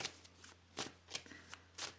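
Tarot cards being shuffled by hand, several quick riffling bursts in an irregular rhythm, close and crisp against a low steady hum.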